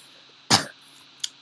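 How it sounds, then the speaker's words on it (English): A single sharp cough bursts out close to the mic, followed about a second later by a smaller, brief throat sound, with quiet room tone between. "Okay, I cough."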